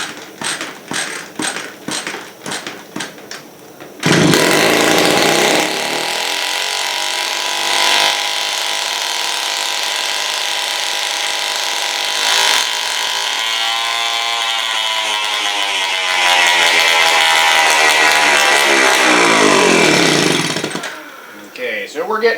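A 1979 Honda Express moped engine runs on partial choke, a loud steady buzzing two-stroke drone held at near-constant pitch after a few ragged starting pops, with the revs rising slightly mid-run before cutting out.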